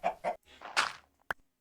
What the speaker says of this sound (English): we should have our chicken drop down at least 3 or 4 blocks